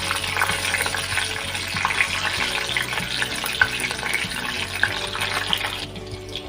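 Green chillies and a bay leaf fry in hot oil for a vegetarian cabbage ghonto, giving a steady close sizzle with faint stirring clinks and no talk throughout.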